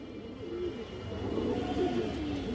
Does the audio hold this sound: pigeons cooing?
yes